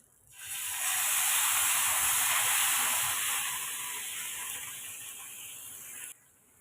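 Dosa batter hits a hot griddle stone with a sudden bright hiss that swells within a second, holds strong, then slowly fades before cutting off near the end.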